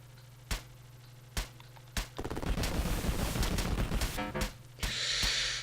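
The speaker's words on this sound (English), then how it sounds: "Taking a lot of damage from both of these tanks." Tank cannon and machine-gun fire in the Urban Strike video game: sharp isolated shots, then a dense sustained barrage of rapid gunfire over a steady low hum.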